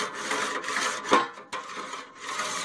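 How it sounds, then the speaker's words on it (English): A scraper rasping back and forth across a hot tabletop grill rack after cooking wings and kabobs, with steady close gritty strokes and a brief metallic clink midway, no talking. "It's a good idea too, to always scrape that rack off while it's still hot."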